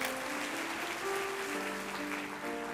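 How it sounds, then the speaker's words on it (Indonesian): A church congregation claps for the multimedia team during a sermon, a dense wash of applause mixed with soft sustained music tones underneath. "kasih tepuk tangan untuk multimedia."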